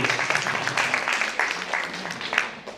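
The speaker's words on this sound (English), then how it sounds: "big round of applause, please" Applause from an audience after a catering-company presentation at a business awards event, a fairly light crowd of clapping hands with uneven bursts, moderately near and short.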